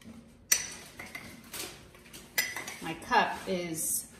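A metal spoon scrapes and clinks against dishes at close range, scooping almond flour into a measuring cup in a series of irregular taps and scoops with light rustling, and some faint voice sounds.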